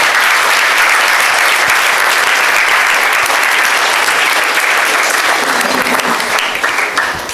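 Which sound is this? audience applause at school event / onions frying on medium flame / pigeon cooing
audience applause at school event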